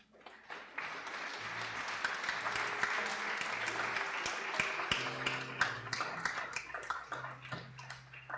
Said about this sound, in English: I'd ask you to give yourselves a round of applause.